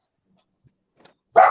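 A dog gives a single loud bark at the end after near silence with faint small noises, up close in a quiet home.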